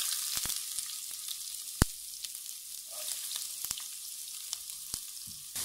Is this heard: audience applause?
no